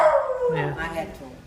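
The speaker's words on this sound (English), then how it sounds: "That's our dog George." A pet dog named George howls in a home kitchen, a short wavering rising-and-falling howl heard close by, with a person talking over it.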